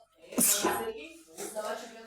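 One sharp, close sneeze bursts out with a loud explosive onset, then fades into a breathy trailing sound as a voice follows.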